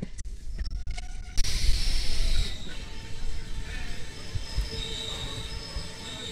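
A Sealdah–Bangaon local train pulls into a station in fog, its wheels squealing in high, sustained shrieks over a low rumble of rolling carriages, loud and close.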